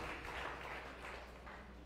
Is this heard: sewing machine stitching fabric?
no